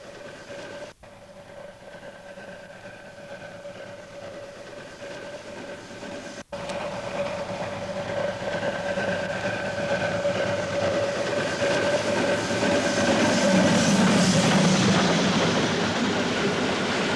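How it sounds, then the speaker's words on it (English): A steam locomotive hauling a passenger train near Katowice, Poland, rumbles steadily past with a continuous mechanical roar, a sustained whistle-like tone running through it, growing louder toward the end. "She's working a local passenger train near the industrial city of Katowice."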